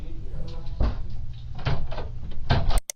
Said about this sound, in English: At the exact moment the door shuts